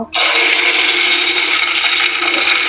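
Aloe vera dropped into hot oil for a homemade hair oil, bursting into a loud, steady, close sizzle that starts abruptly and holds without letup, with no talking.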